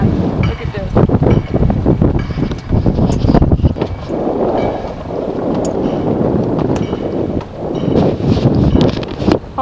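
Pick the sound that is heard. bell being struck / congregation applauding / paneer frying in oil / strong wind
strong wind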